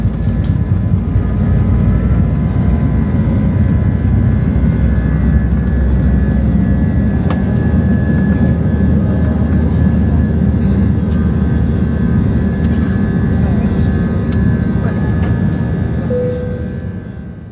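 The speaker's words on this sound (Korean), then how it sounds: "캐빈 소등을 하고 이륙합니다." A Vueling airliner taking off on a flight from Orly to Barcelona, heard from inside the darkened cabin: a loud, steady engine roar with broadband rumble that holds for the whole stretch, with no talking over it.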